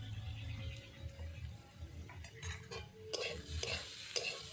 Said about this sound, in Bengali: এবার ভালো করে ভাজা করে নেব।